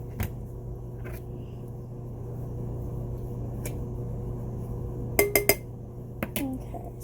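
A utensil scoops food out of a dish, with faint scrapes early on and then a quick cluster of sharp metallic clinks near the end over a low steady hum.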